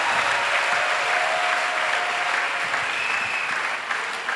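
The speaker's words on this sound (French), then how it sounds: "Please clap for the Lord." Sustained applause from a church congregation celebrating a golden jubilee fills the space, a dense, steady wash of many hands clapping at even loudness from start to finish.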